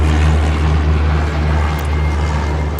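A propeller aircraft takes off in the airport game Airport Madness, a loud, steady droning engine roar with a low hum, holding constant throughout and with no voices.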